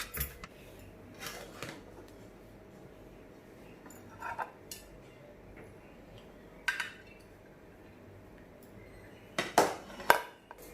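Beef yakhni pulao is served from a cooking pot with metal utensils: sporadic spoon clinks and scrapes against the pot, with a louder cluster of clatter near the end, over a quiet background.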